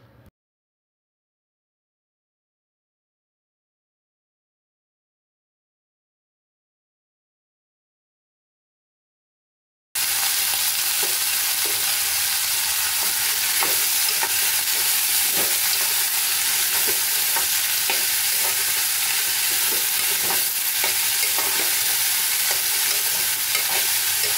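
Raw banana pieces frying in a tempering of oil with browned onion, silent for the first ten seconds and then a loud, even sizzle with frequent crackles and stirring clicks, close and unbroken.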